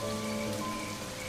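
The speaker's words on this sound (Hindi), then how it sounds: "इतनी बारिश को भी आज ही आना था।" Steady heavy rain pours down in the wild, a dense, even hiss that holds for the whole moment with faint tonal lines beneath it and no voices.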